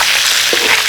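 Cooking wine hits a hot pan holding fish with spring onion and ginger slices, giving a loud, close, steady frying sizzle throughout with no voices.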